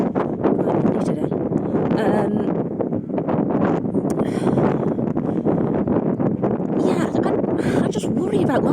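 Strong gusty wind buffets the microphone throughout in the countryside near Doncaster, a rough continuous roar under steady talking.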